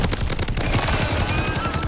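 Akimbo WSP Swarm submachine guns fire in MW3 Zombies, a rapid, dense stream of automatic shots in quick bursts that run almost continuously, loud and close, with no talk over them.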